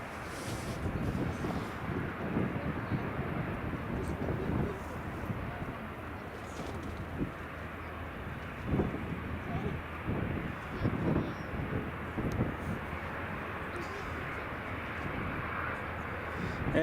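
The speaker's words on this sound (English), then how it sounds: "A plane arrives. Or a plane departs, I should say." A jet airliner departs Edinburgh Airport, its engines a steady, broad roar heard from a distance and mixed with wind buffeting the microphone throughout.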